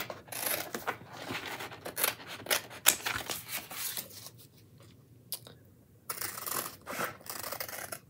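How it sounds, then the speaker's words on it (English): Scissors snipping and cutting through paper for a chalk craft project, close and crisp in a steady run of cuts with a short pause near the middle before the cutting resumes. "All right, so let's get this cut up."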